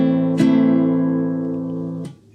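A flamenco guitar plays a down stroke and then an up stroke. Two bright, close strums are spaced well apart, each chord left ringing and slowly fading.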